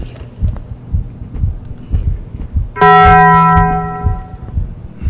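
The Taco Bell bong strikes once as a loud, ringing tone that slowly decays, cutting across a low, throbbing heartbeat-like music pulse.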